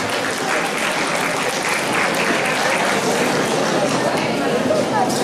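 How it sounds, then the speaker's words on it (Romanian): Audience applause at a Romanian carol festival evening, steady loud clapping from a crowd that fills the whole stretch, with voices murmuring underneath. "Mulțumim pentru aplauze, că merită!"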